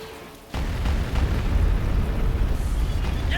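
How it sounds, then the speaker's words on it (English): Artillery bombardment in the Star Wars Empire at War strategy game: a loud, sustained rumble of overlapping explosions and booms that starts abruptly and keeps rolling without pause. "Bombardment incoming"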